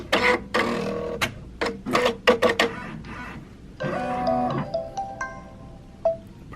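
A six-needle embroidery machine runs a satin stitch on an appliqué baby onesie. It makes rapid bursts of mechanical needle clatter, then a steadier whirring run with tonal motor whines near the end. No one speaks over it.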